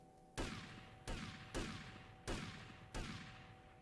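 Five loud, sharp gunshots in GTA Vice City, spaced irregularly about a second apart, each ringing off in a long decaying tail over a steady background hum.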